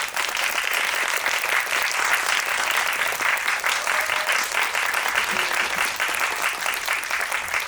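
Audience at a film festival guest screening and talk applauds to welcome an actress guest, with steady, dense clapping filling the whole stretch at a consistent, loud level.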